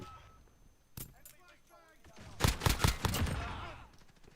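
Bursts of video game gunfire and flash grenades crack in rapid clusters, quiet and mixed under a player's agitated talking.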